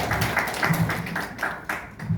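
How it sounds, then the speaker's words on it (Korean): Audience applause for a poet and art critic being introduced at a YouTube association's incorporation celebration, a steady patter of clapping with rhythmic bursts across the whole stretch, moderately close. "박수 부탁드리겠습니다."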